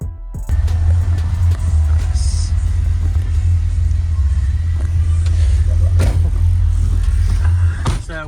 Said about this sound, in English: This is an awesome windy low-end demo. Into the teens.